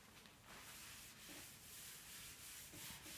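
A cloth rubbing spirit onto a spot on a floor, giving a close, steady scrubbing swish that runs for a few seconds with slight back-and-forth pulses and no talk.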